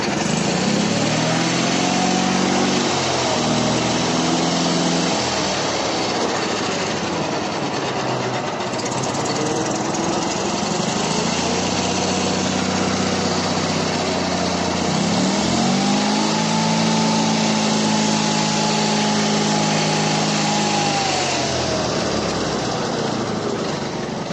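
A Prykarpatets mini tractor engine labours on hilly ground, a loud, close, continuous drone whose pitch rises and sinks as it strains and revs, with no talk over it.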